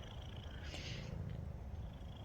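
A cat purring close by in a village house setting, a soft steady rumbling purr running throughout with a brief higher rustle in the middle, quiet and alone.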